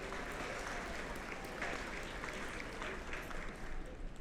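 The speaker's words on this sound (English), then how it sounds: "You may clap." A conference audience applauds an election result, a dense, steady wash of many hands clapping that carries on evenly across the whole span with no speech over it.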